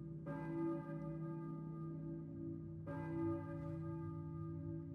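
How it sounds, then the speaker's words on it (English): A church bell tolls in the Silent Hill video game: two long, resonant strikes a few seconds apart, each ringing out with a rich, sustained hum, heard alone without talk. "I hear a church bell. Who is ringing a church bell?"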